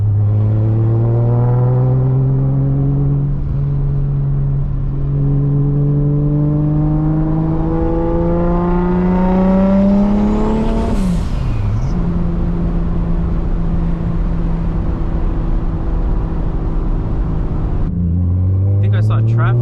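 A turbocharged Toyota Supra with no muffler drones loudly from inside the cabin, its engine tone climbing steadily through a gear, dipping briefly at a shift, then holding a constant heavy hum.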